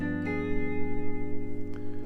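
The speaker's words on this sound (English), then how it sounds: "we are just playing a G dominant with a flat 9 on top" Guitar chords ring close and clear, a G dominant with a flat 9 on top moving into a diminished chord, one strum sustaining into the next with a light pick attack, no talk.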